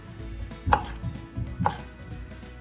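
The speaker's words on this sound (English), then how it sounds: "I'm just in the habit of slicing and dicing." A 5-inch Santoku knife dices a jalapeño on a cutting board, giving two distinct close knife taps about a second apart with softer cutting sounds between, quiet and without talk.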